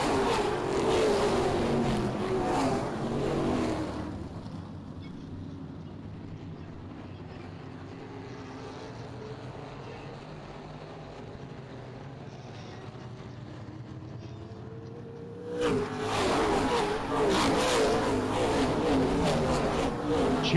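Race cars circle the oval at Springport Motor Speedway on a Saturday night, their engines roaring loudly at first, fading to a distant drone, then surging back up close as the pack passes.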